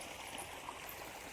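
Irrigation water runs into a millet field through two opened valves, a faint, steady, even rush with no breaks.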